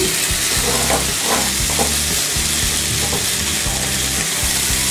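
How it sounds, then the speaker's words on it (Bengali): Meat spice paste stirred into rice for Old Dhaka style Haji biryani, with a loud steady sizzle and hiss throughout, broken by repeated rhythmic scraping strokes of a spoon in the pot, close up. "মশলাটা চালের সাথে ভালো করে মিশিয়ে নিচ্ছি।"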